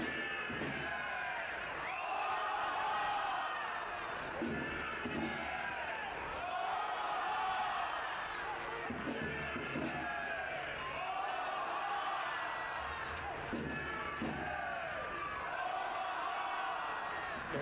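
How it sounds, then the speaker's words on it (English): Football fans in Nebraska chant for Union Omaha during a match against Forward Madison FC. The crowd roar is continuous and fairly distant, rising and falling in a repeating rhythmic chant throughout, with no nearby talk. "You can hear the fans in Nebraska chanting for Union Omaha."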